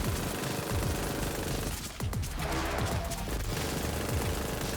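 Enemy gunfire in Borderlands 3 rattles as a continuous dense fusillade, loud and unbroken apart from a short dip, mixed with other game effects.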